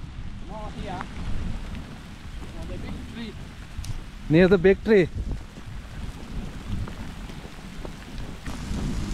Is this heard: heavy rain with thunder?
yes